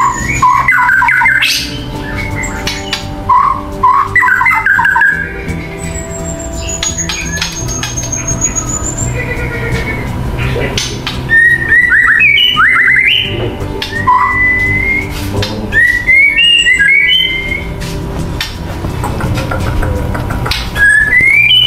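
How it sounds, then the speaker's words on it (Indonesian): A white-rumped shama (murai batu) at a bird farm sings loud, varied whistled phrases and squawks, bursting repeatedly over a steady background hum. "Arto merupakan burung andalan Yoga Bird Farm."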